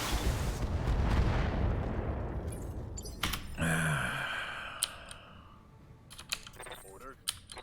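Giant mech weapons firing in the BattleTech video game, a rumbling blast followed by sharp cracks, a humming energy burst and scattered impacts, with a short vocal sound and a sigh-like breath mixed in.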